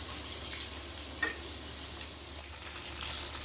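Flour-coated chicken pieces for a chicken roast frying in a pan, giving a steady, close hiss of sizzling oil with occasional faint crackles and no voices.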